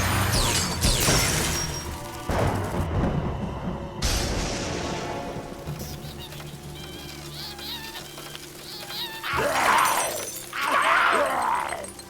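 Cartoon energy blasts from Bumblebee smash into things in a burst of loud shattering crashes, booms and breaking debris, with a brief pause in the middle and fresh crashes near the end.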